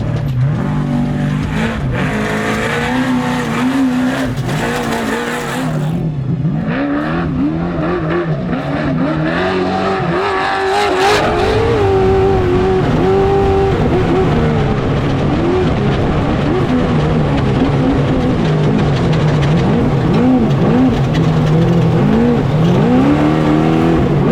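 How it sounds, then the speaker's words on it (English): A racing truck driven hard around a track, its engine loud and close, revving and shifting continuously with surging pitch and occasional tire noise, alone without talk. "I felt really good in the truck, cruising through my section as hard as I could"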